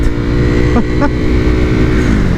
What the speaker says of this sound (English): A Hypermotard or not, it's still a Ducati.